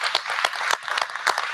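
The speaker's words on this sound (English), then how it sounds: "every one of us in here should give Amy and Alberto a big old round of applause" An audience at a health technology summit gives a dense, steady round of applause, many hands clapping at once, close and loud throughout.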